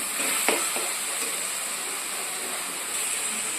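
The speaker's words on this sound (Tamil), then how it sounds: "இப்போ இது கூடவே கொஞ்சம் கருவேப்பிலை போட்டுக்கிறோம். இது கொஞ்சம் நல்லா வதங்கட்டும்." Prawn gravy masala frying with curry leaves in a pan, a steady close sizzle and hiss with a couple of faint stirring scrapes near the start, no voices.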